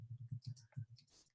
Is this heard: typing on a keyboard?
yes